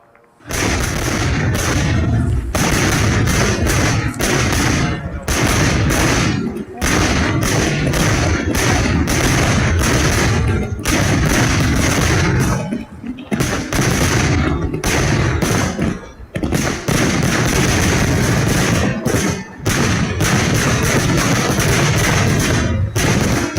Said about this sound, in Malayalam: പാലക്കാട് വടക്കഞ്ചേരിയിൽ അനധികൃത വെടിക്കെട്ട്